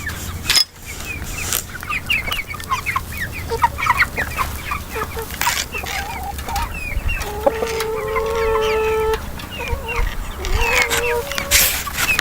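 A flock of chickens clucks busily inside a backyard chicken coop, and a rooster crows partway through. The birds are close and loud, with dense overlapping calls.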